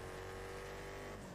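In GTA, a Doom buggy car's engine drones steadily and faintly as the vehicle pulls away, a low sustained motor hum with a slight rise in pitch near the end.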